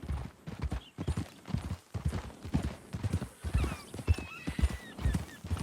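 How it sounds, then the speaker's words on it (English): Horse hooves clip-clop in a steady rhythm nearby in Red Dead Redemption 2, with a high whinny rising partway through over a soft background. "That new horse?"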